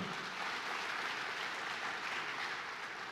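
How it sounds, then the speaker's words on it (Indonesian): A church congregation claps in a dense, even roar of applause that stays level and fairly distant from start to finish, with no voices standing out. "Kasih tepuk tangan buat Tuhan."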